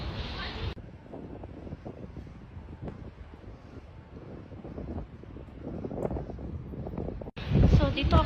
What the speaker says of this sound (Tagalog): Lamig, lakas ng hangin.